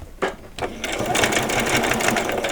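A sewing machine runs a straight line of stitching through velcro, its rapid needle chatter starting after a couple of brief bursts and then running steadily and close for the rest of the moment.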